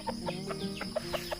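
Farmyard chickens cluck while being fed ripe fruit from the harvest. Around half a dozen short, close clucks come in quick succession, with no talking.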